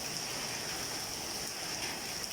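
Heavy rain falls outdoors in a rural farming area, a dense, steady hiss of drops on surfaces with no breaks or other sounds standing out.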